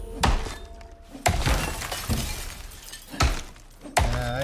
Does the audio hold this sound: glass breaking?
yes